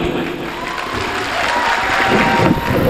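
A crowd at a Tipu Sultan Sena mushaira in Akola applauds to welcome a speaker, dense sustained clapping with some cheering, loud and filling the hall for the whole stretch.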